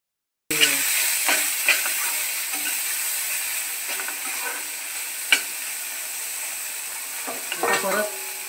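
Okra tossed into a pan of roasted chillies sizzles and fries steadily, with a bright hiss throughout and a few louder stirring clatters and scrapes, close and without talk.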